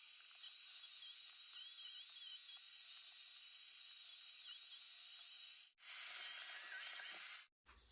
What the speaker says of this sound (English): Let's get this brisket ground up.